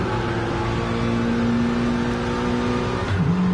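A race car engine heard onboard in a PS4 racing video game drones loud and steady at high revs, then drops sharply and climbs again near the end as the driver shifts or lifts.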